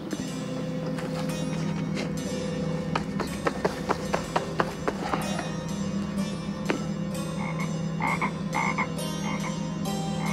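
A frog croaks in a game scene set on a road, repeated croaks over a steady droning background with a run of sharp taps in the middle.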